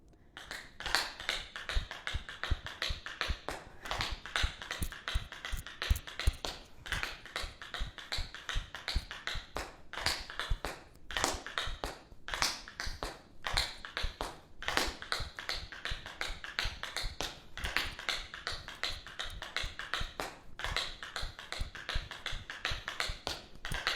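Rapid tap dance shuffle steps, crisp metallic taps in quick rhythmic bursts with short pauses, continuing at a lively pace with no voices.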